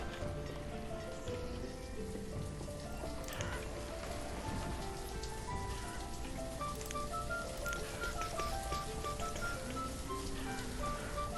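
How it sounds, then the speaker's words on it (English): Steady rain falls throughout in the village-building game Banished, a dense, even patter of drops on surfaces that carries on without a break. "Lovely rain."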